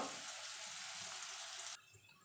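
Onions frying in hot oil, a dense bright sizzle that holds steady and then cuts off abruptly near the end, leaving quiet.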